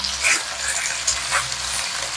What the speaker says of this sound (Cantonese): 盡量開最猛嘅火去煎啲排骨